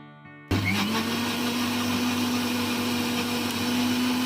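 A kitchen blender switches on abruptly and runs at a steady, loud whir while mixing mango and milk into a mango shake, holding a constant motor tone after a brief quiet start.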